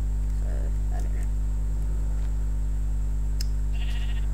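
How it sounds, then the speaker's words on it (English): Sheep bleating in Minecraft, a few short soft bleats scattered over a loud constant electrical hum. "this little sheep here, he will take his time, but he will actually eat the grass"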